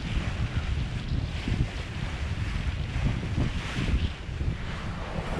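Steady wind roars and buffets the microphone aboard a sailboat on open ocean, with low rumbling gusts and a hiss of water underneath and no voices.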